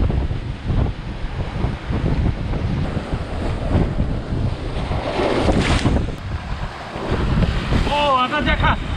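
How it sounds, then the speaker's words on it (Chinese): Strong surf from a rising tide on the shore of a small island surges and rumbles continuously, loud and close, with heavy wind buffeting the microphone throughout. "大家看这个海浪壮观吧。"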